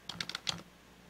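Someone types a file name on a computer keyboard: a quick burst of about five soft key clicks, close and quiet, then brief silence.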